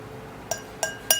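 Three bright clinks of a spoon tapping a drinking glass while turmeric is stirred in, evenly spaced about a third of a second apart, close and clear over a quiet background.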